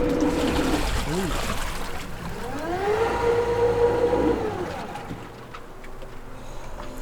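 A tuned electric boat motor running forward gives a rising whine that holds steady for a second or so, then fades, over nearby trickling water and low background murmur.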